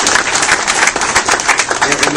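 Banquet audience applauding for a basketball team, dense and loud clapping close by, with voices mixed into the noise.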